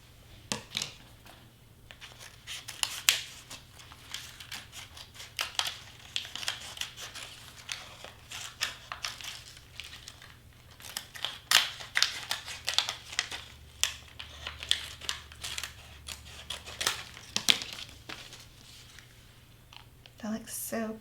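Scissors cutting through craft material while a mandala design is assembled, heard as a close, irregular run of crisp snips and crinkly rustles that continues throughout.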